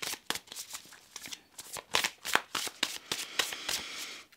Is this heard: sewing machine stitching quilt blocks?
no